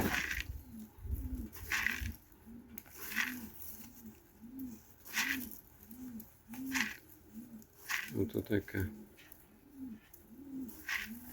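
Pigeons coo in a loft in Chornobai, a steady series of soft, rhythmic coos repeating about every second, with a flurry of fluttering near the end and a brief voice speaking.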